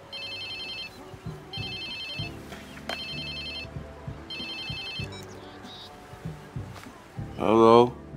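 A phone ringing in the Watch Dogs 2 video game, loud repeated electronic ring bursts in a regular pattern, with game sounds between the rings and a brief rising tone near the end.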